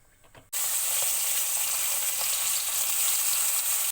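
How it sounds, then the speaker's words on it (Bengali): Tilapia fish dropped into hot oil in a heated wok, bursting into a loud, steady, continuous sizzle right after a brief quiet start, with no talking. "মাছ রান্না করার জন্য প্রথমে মাছটা ভেজে নেব তো কড়াই গরম হয়ে গেছে তেল দিয়ে দিলাম"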